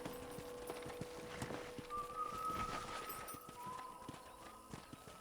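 Steady clip-clop of horse hooves walking at an even pace, with a faint background tone and ambient game-like sounds, from the video game Red Dead Redemption.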